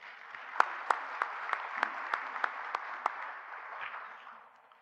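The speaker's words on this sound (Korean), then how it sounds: "그럼 홍기정 사장님을 큰 박수로 모시겠습니다" An audience gives applause to welcome a company CEO to a lecture, a soft, distant wash of clapping with a few sharp individual claps standing out near the front, fading away at the end.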